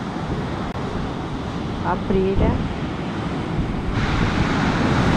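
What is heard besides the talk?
stormy sea waves and wind at Anapa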